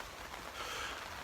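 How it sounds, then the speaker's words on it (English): Steady rain falls outside around a gazebo held down with ratchet straps, a soft continuous hiss of drops on surfaces, fairly faint and even throughout with no voices. "It's still raining,"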